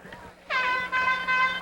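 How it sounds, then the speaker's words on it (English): An air horn blares loudly in two sustained blasts from a sideline at a high school varsity football game, cutting through a noisy crowd background. "we have an air horn on the Tigers sideline"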